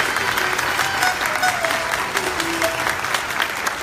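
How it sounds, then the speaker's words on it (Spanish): Audience applause at a folk music gathering, steady dense clapping throughout at moderate loudness, with faint tonal sounds and murmuring underneath. "Johan Soto, aplausos, Luis."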